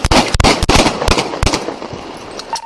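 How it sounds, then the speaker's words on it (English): Police officers fire a rapid burst of handgun shots at a man armed with a knife, several loud sharp cracks in quick succession, close and echoing, with shouting around them. "Shots fired."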